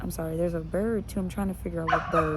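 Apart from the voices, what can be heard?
dog barking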